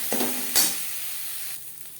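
Spices with turmeric fry in a pan for chana dal, giving a close, steady sizzle. Two sharp utensil knocks come early, and the sizzle then settles softer.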